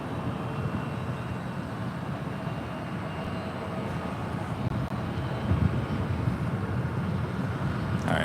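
Delta Airlines Boeing 757-200 jet delivered in 1997 at San Francisco International Airport, a steady broadband engine roar holding at moderate level throughout, with a slight swell partway through and no talk.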